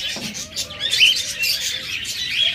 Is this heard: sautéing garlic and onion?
no